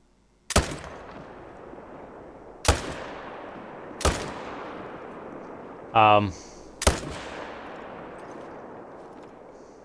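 Several rifle shots ring out in a hunting video game, fired at a red deer: four sharp cracks with long decaying tails spaced a couple of seconds apart, plus a short buzzing mechanical burst between the last two shots.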